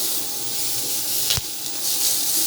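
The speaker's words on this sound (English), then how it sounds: "I'm going to put the sliced garlic in here" Sliced garlic sizzles in oil in a Nuwave induction wok as a steady, close hiss, with a brief sharp crackle about halfway through and no talking.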